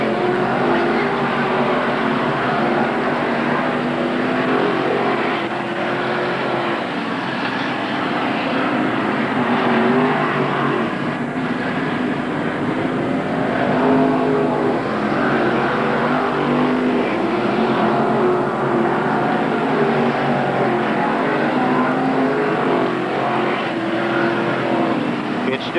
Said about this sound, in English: Frank Plazik, car number 4, sets it up in turn 4, heads down in front of the grandstands with about a 15-car lead over second place runner Scott Wood, car number 38.